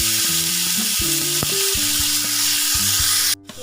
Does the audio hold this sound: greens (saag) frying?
yes